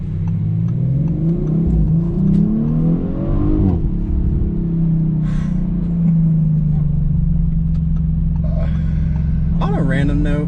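A 2019 Audi RS5 engine hums and rises as the car accelerates while driving, with a steady mid-range drone and revs climbing and dropping under someone talking throughout.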